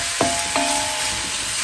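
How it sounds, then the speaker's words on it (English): Vegetables and onions for nikujaga fry in oil, a constant loud close sizzle broken by two short spoon-against-pot clinks, with no speech. "to get all the oil onto the vegetables so they brown up a little bit, and the onions caramelize as well"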